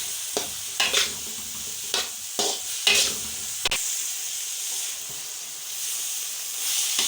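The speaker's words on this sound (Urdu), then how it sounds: "اس کے بعد گاجریں ایڈ کریں گے۔ اس کو اچھی طرح فرائی کر لیں گے۔" Peas and carrots stir-fried for vegetable fried rice, a steady oil sizzle broken by several scraping spatula strokes early on, then an even hiss alone near the pan.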